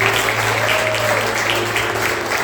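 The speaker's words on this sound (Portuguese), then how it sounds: "Uma salva de palmas." Church congregation applauding at a special Easter service, a steady, dense wash of clapping that holds evenly for the whole stretch with no voices rising above it.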